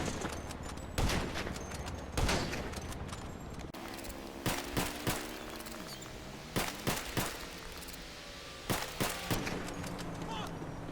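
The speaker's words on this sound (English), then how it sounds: "you're going to go back and you're going to shoot it again on the same spot until it lowers one more time" Repeated gunfire from GTA 5 as a car is shot, sharp reports arriving in scattered single shots and short bursts over a steady game background, with speech-like sound throughout.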